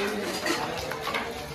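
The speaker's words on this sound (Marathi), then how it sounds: "ती तिकडे भांडी वाजायला लागली" Pots, pans and dishes clatter and clink while being washed after a family birthday meal, a busy stretch of irregular metallic knocks and scrapes at close range, with faint voices underneath.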